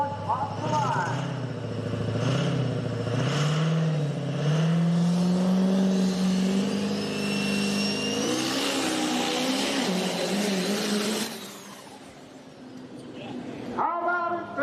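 A diesel truck at a dirt drag race spools its turbocharger with a rising whistle over a loud engine drone, then launches and roars off before the sound drops away and a voice returns near the end.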